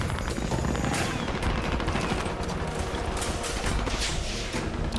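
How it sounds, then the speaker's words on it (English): Rapid bursts of laser weapon fire from Fallout game weapons crackle and pop continuously in a dense, fairly faint barrage, with a voice talking over it. "the effect of those laser weapons"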